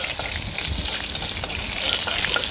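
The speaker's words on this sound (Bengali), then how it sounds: "শুকনো মরিচগুলো ভালো করে ভেজে নিলাম" Dried red chilies fry in hot oil with a close, dense sizzle and bubbling crackle that continues steadily and swells slightly toward the end.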